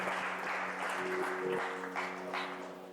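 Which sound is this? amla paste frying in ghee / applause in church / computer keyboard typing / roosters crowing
applause in church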